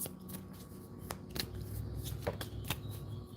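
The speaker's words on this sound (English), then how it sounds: "You guys hear me over here shuffling" Cards being shuffled close by, a few quick riffling bursts and snaps in a quiet room, no talking.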